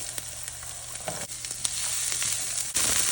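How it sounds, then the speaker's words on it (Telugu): Onions added to oil already frying green chillies, coriander, mint and curry leaves, giving a steady, bright sizzle that swells as they go in, with light stirring and no voices. "ఇలా వేయినాక కొంచెం ఆనియన్స్ వేయండి"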